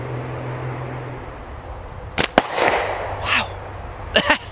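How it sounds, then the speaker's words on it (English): A slingshot shot bursts a thin-skinned small plastic water bottle, giving two sharp close pops in quick succession followed by a brief splashy spray, then another pair of quick snaps near the end, over a quiet outdoor background. "little water bottle. Still a big bang."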